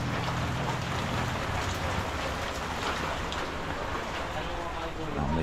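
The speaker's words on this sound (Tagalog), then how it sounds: "Tuloy-tuloy pa rin ang ulan." Continuous heavy rain drums on surfaces outdoors in a steady, dense, even roar through the whole stretch.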